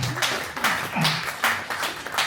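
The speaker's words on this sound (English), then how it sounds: "let's give a big round of applause for" An audience at a Physical AI community event gives uneven applause, with bursts of clapping rising and falling. Voices and murmurs mix in throughout.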